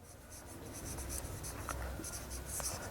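Chalk or marker writing on a classroom board during a physics lesson, a steady scratchy stroking that runs continuously with short taps and pauses, fairly close, with no talking over it.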